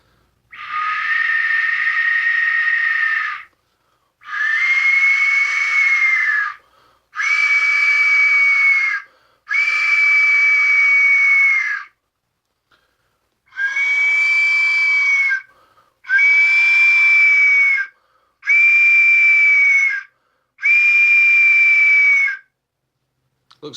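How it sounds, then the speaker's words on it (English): A handmade Aztec death whistle shaped from Sculpey clay gives eight loud, shrill, screaming blasts, each a few seconds long, separated by short pauses. "so there he is, the Aztec Death Whistle"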